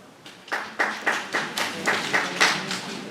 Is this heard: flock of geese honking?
no